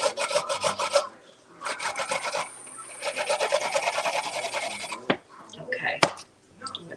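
Fresh ginger root is rasped back and forth by hand on a grater, producing rhythmic close scraping strokes in long runs with short pauses and a couple of knocks, while a person talks quietly at times.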